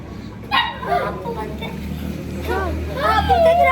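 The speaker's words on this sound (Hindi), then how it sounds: "किसी पे भौंक रहा है पीछे।" A dog barks and yips in a few short bursts close by, mixed in with people talking over it.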